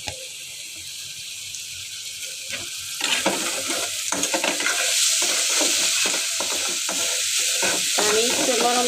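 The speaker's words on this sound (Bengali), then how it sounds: "আমি একটু নরম করে ভেজে নিব।" Chopped ingredients for a mustard hilsa curry fry in a pan, with a quieter sizzle at first that swells into a loud, busy crackle and repeated stirring scrapes close by.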